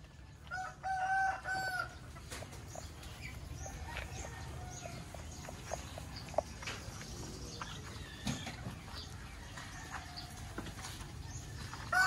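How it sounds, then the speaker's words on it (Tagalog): Fighting cock used as broodcock in the Philippines crows and clucks a few times early on, then lingers amid a steady outdoor background of other faint bird calls and ambient noise. "Fighting cock yan"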